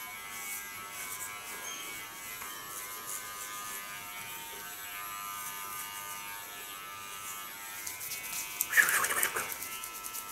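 A Theo hair clipper buzzes steadily up close during a head shave, a thin continuous whine with a brief louder burst near the end.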